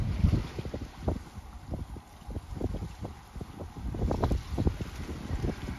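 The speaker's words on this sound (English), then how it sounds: "Trying to hold my hand so it blocks the wind a little bit." Wind buffets a microphone outdoors on the coast at Rockport, with uneven, rumbling gusts that rise and fall throughout.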